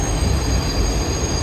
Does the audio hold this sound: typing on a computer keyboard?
no